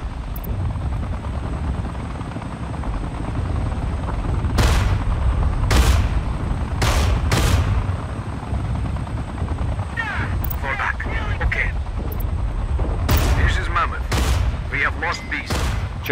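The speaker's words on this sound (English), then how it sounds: "We open fire at enemy now." Gunfire rattles through an EndWar strategy game battle with the Russian army, bursts of shots rising over a steady helicopter rotor drone and battle noise, mid-loud and dense, with no talk in between.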